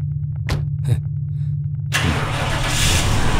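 A car engine fires up after a few faint knocks and then runs steadily and fairly loud, with broadband road-like rumble continuing to the end.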